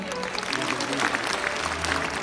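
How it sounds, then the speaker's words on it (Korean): An audience at a Jeju gathering applauds as a guest is introduced, a steady wash of clapping with a low murmur of voices underneath. "큰 박수 부탁드리겠습니다"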